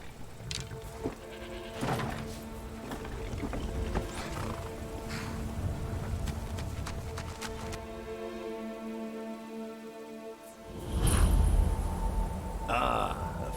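Horse-drawn carriage arriving in Skyrim: steady clip-clop of hooves and rolling wheels, with a horse whinny and snorts near the end, fairly close and continuous with no talk.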